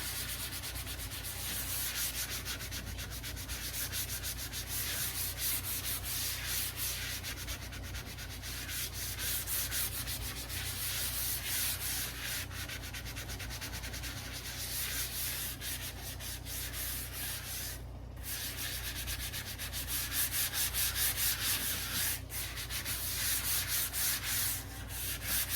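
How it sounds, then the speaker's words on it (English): A dampened Scrub Daddy sponge scrubs a surface in continuous rapid back-and-forth rubbing strokes that make a dense, close scratchy swish, with a brief pause near the middle and no voices. "And now I'm going to use a dampened Scrub Daddy."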